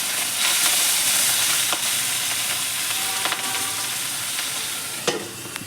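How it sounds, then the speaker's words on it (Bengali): Katla fish pieces frying in hot oil for doi katla, giving a steady close sizzle with occasional crackles and spatters and faint stirring clicks throughout. "এই 2 পিস মাছ ভেজে নেব"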